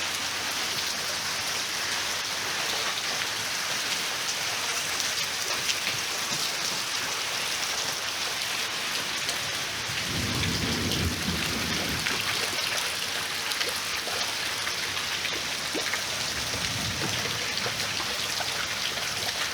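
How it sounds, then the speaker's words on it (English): Heavy rain pours steadily during a thunderstorm, a dense constant hiss, with low rumbles of thunder swelling midway and again near the end. "We've got thunder and lightning too"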